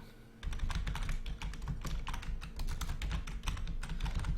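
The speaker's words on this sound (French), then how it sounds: "désolé pour les bruits du clavier" Rapid typing on a computer keyboard, dense clicking keystrokes starting after a brief pause and continuing steadily, close and clear with no voices.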